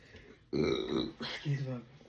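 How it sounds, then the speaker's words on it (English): A single loud, drawn-out burp rumbles close to the microphone, with a second voiced belch-like burst following it. "Excuse my spiritual burp."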